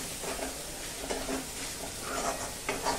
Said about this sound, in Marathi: धणा पावडर हे मस्तपैकी छान असं तेल सुटेपर्यंत परतून घ्यायचं